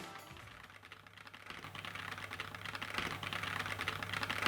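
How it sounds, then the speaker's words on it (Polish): A mechanical keyboard fitted with red-equivalent linear switches is typed on in a quick, continuous stream of soft, close keystrokes that grow a little louder over the seconds, with no talking. "zastosowano odpowiedniki switchy RED, więc klawiatura będzie stosunkowo cicha, choć w momencie, kiedy sobie klikamy"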